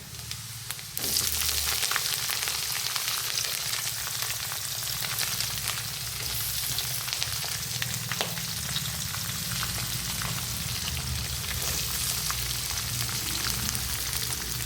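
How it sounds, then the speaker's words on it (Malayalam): Chopped onion, green chili and garlic fry in a pan for a Kerala koorkka stir-fry, starting with a sudden burst into a steady, close, crackling sizzle that carries on unbroken, with occasional faint stirring and no talking. "മൂപ്പിച്ചെടുക്കുക."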